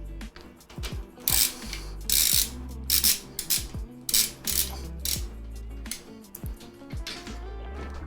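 A screwdriver turning screws during a PC build, a close ratcheting clicking that comes in uneven bursts and stops, with small metallic rattles and scrapes between turns.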